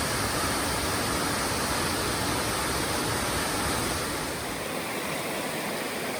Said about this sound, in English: this beautiful, awesome, inspiring waterfall is brought to you by God